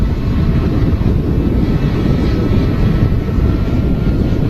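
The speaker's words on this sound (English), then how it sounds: "Starting the other engine there as well, you can hear it." A jet airliner spools up its second engine on the ground at Manchester Airport, a steady loud roar and rumble filling the whole stretch without pause, with wind buffeting the microphone.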